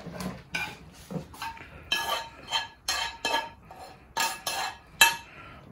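Metal pans clatter and clink repeatedly in quick irregular bursts, close by, as a frying pan is handled in a home kitchen, with no talking.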